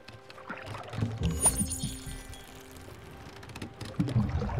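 Water splashing and pouring in the Spiritfarer video game as plants are watered: a soft, gurgling liquid sound that swells in the middle, with lighter splashes near the end and a low game background underneath.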